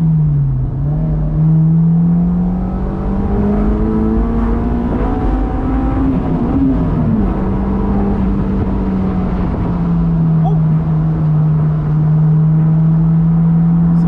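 A right-hand-drive car accelerating hard in second gear, its loud engine droning steadily close inside the cabin, pitch climbing, dipping briefly, then rising again before levelling off.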